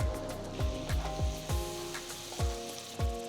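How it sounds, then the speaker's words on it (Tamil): Chopped onions sizzle in melted butter in a hot pan with repeated scraping stirs, a steady frying crackle broken by regular utensil strokes. "2 நிமிஷத்துக்கு வெங்காயத்தை வதக்குங்க."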